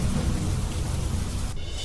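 Heavy monsoon rain pours down around Modasa in Gujarat as a dense, close roar with a low thunder rumble underneath. It breaks off abruptly near the end.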